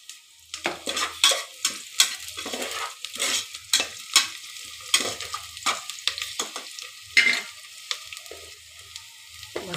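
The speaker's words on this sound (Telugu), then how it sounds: "బ్రౌనిష్ వచ్చేదాకా అయితే ఫ్రై చేస్తాము." Vegetables fry in ghee inside a pressure cooker for biryani while being stirred, with a close, steady sizzle broken by repeated scraping strokes of the stirring utensil.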